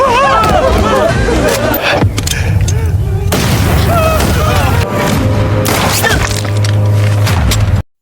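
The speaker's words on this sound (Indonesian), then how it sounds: "ia pun memutuskan untuk meledakkan dirinya sendiri" A deep explosion booms through an action scene from the film Exquisite Bodyguard, with rumbling blasts, crackling debris and chaotic noise, loud throughout before cutting off abruptly.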